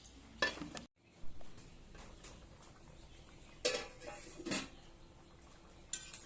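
Lid set over a cooking pot of shrimp steamed in taro leaves, a few brief metallic clinks and scrapes close by over faint kitchen background.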